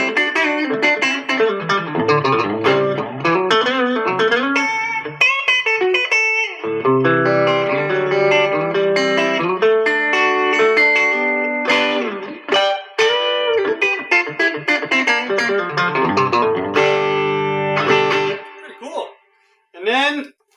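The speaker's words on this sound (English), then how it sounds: "Then we have that Telecaster middle position with the bridge and the neck." A Fender American Pro II electric guitar plays with its bridge and neck pickups together in the Telecaster-style middle position, clean and bright: a busy run of picked single notes and chords with bends and short pauses, up close.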